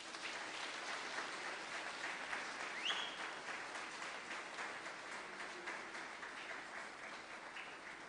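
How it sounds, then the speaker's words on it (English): An audience at a special lecture claps for the chairperson, sustained even applause from many hands heard at a moderate distance and fairly quiet, continuing without a break and with no voices over it. "Shall we please continue clapping for the chairperson?"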